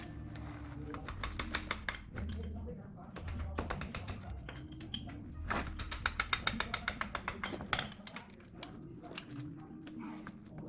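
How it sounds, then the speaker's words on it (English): A hammer beats on a stuck bolt on a Kawasaki Vulcan 750 motorcycle, landing as quick runs of close, sharp metallic taps in bursts, with brief pauses between the flurries. "then hit it with a hammer in order, bear with me, to try to get that unstuck"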